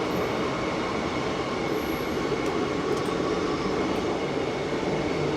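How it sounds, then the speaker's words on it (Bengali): A passenger train on the Howrah to Digha route pulling out of Uluberia station, a loud steady rumble of wheels and carriages with faint high squeals, continuous and close throughout. "9:51 এখন উলুবেড়িয়ার থেকে ট্রেন ছাড়লো"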